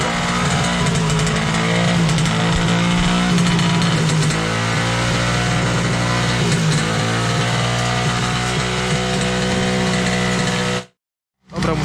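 A Romet Komar 2351 moped engine runs outdoors while smoking heavily, a loud, steady buzzing idle that wavers slightly in pitch and cuts out briefly near the end.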